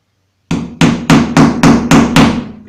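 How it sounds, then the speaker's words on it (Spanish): A hammer drives a shelf pin into a melamine kitchen cabinet with seven sharp, evenly spaced strikes, loud and close, starting after a brief silence. "Coloco el segundo pin a ras con la línea y la clavo."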